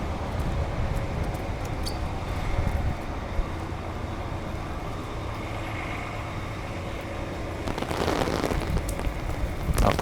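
Rain falling on a wet street in Gowanus, Brooklyn, New York City, a steady hiss and patter with tires swishing past, a vehicle passing louder near the end.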